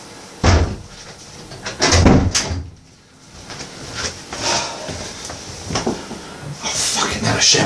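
A shower door swings open with a series of loud knocks and thuds, with a clatter of movement in a room. A voice talks over it.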